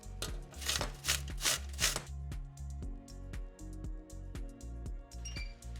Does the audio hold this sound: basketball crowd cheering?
no